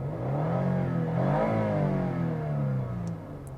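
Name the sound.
Lexus IS250/IS350 engine revving past 5,000 RPM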